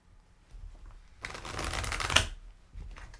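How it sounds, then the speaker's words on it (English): Tarot cards shuffled by hand in the old-fashioned way, close up: one dense, papery riffling burst lasting about a second, with only quiet handling before and after. "when we just do the good old-fashioned shuffling here"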